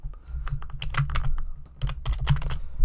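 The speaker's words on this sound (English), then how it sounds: "my keys are sticking on my keyboard" Close clattering keystrokes on a computer keyboard with sticking keys come in uneven bursts with short pauses, some keys landing in heavier thuds, over faint background hum.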